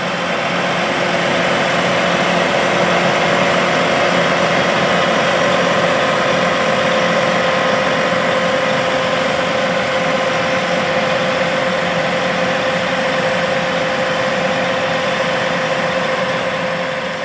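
A heavy tractor engine, a 1775 NT corn planter rig, idles steadily at close range, a constant low rumble with a faint tonal hum and no voices.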